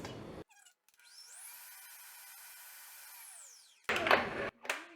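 An electric mixer whirs steadily for about three seconds, running through keto cream cheese frosting, its pitch rising and falling gently, with brief clattering and scraping noises just before and after.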